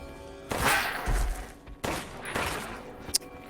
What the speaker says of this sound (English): I'm gonna have to shoot him with the handgun here